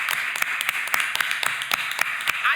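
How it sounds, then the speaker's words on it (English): A panel audience gives a short round of applause, a few distinct hand claps in quick irregular succession, close and fairly loud for just a couple of seconds. "All right, everybody give Kamel a round of applause."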